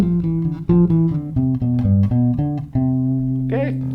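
Electric bass guitar plays a bright, contented melody on a major scale, a steady run of clear plucked notes with sustained low tones, close and alone, with a brief scrape near the end.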